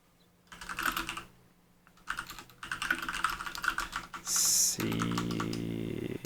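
Fingers typing a command on a computer keyboard, close and clear, in quick bursts of key clicks separated by short pauses, ending with a brief electronic tone and a low hum.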